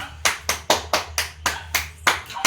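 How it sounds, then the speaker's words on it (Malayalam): Hand clapping, about nine sharp, evenly spaced claps in quick succession, close and loud with nothing else behind them. "കൈയടിക്ക്"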